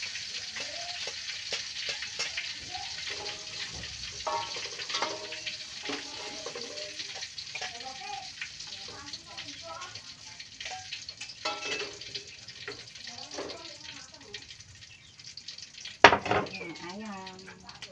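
Chicken frying in hot oil in a home kitchen, a constant crackling sizzle with soft clinks of utensils and faint voices in the background, ending in a sharper clatter near the end.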